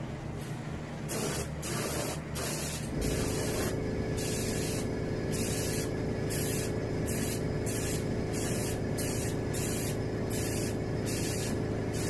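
Close airbrush spraying on a striped bass skin mount: a steady hiss broken into repeated short bursts, loud and continuous with no voices.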